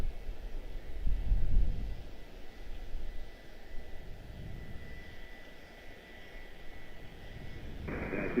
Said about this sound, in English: The 789 Dreamliner headed back to Abu Dhabi.